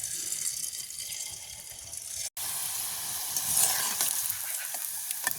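Food fries in a pan with a steady, close hiss of sizzling that briefly cuts out for a moment partway through, then swells a little louder, with no voices.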